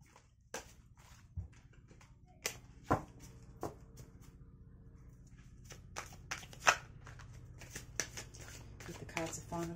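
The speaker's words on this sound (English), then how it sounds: "We'll give your cards a shuffle." Soft shuffling and riffling of tarot cards with light taps and slaps, quiet and close, repeating in irregular bursts.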